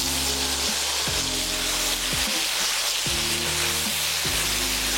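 Steady, dense sizzling of turmeric-fried chicken cooking in a hot pan, loud and continuous, with low music-like tones running underneath.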